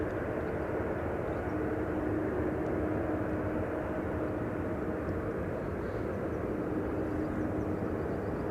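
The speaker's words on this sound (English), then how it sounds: "Morning sunlight on the Transavia 737 as it is taxiing to the threshold of 18 left." A Transavia Boeing 737 taxiing at Amsterdam Schiphol toward the runway in morning light, a steady distant engine rumble and hum that holds even throughout, no talking.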